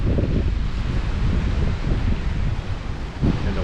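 Small ocean waves washing onto a Florida beach, a soft continuous surf wash with a couple of swells, largely buried under heavy wind buffeting on the microphone.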